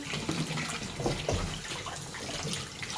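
Running tap water pouring and splashing steadily as a sheep's head is washed under it in a sink, close and continuous, with no voices.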